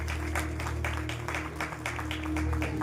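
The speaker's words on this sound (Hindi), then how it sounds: "तालियां तो जोरदार नहीं लग रही मुझे।" Applause from an audience welcoming a bishop at a church council gathering in Delhi, a steady, moderate patter of many hands clapping throughout, fairly even and not especially loud.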